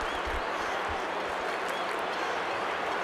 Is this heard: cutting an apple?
no